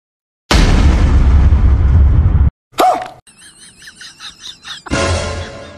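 A gunshot in a comedy skit, a loud, harsh blast of about two seconds followed by a sharp cut, then a warbling electronic sound effect and a second short burst, with no speech.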